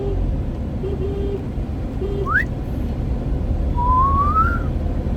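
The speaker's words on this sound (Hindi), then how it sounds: "सीटी बजानी आ गई गाइस, मुझे सीटी बजानी।" Someone whistles outdoors on a lively vlog outing: a few short, clear notes, then a quick upward swoop and a longer wavering tone, set against a constant rumble of passing traffic.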